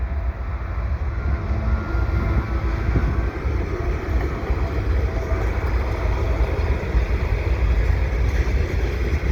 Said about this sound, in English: Looks like I got the CSX train here.